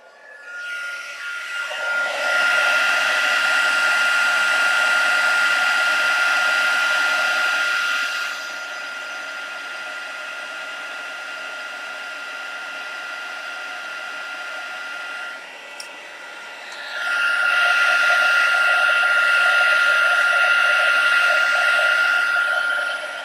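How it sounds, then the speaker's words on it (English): A heat gun preheats for card-making embossing, blowing a loud, steady whine that eases to a quieter hum in the middle, then surges back to full strength. "going to preheat my heat gun"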